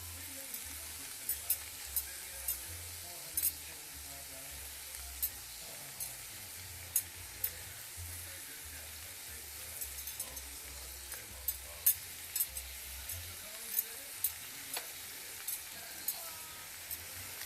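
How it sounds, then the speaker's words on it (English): Brussels sprouts sizzle face down in a pan of butter and minced garlic, a soft steady frying hiss with scattered faint pops, quiet and continuous throughout. "Now take your Brussels sprouts and put them face down"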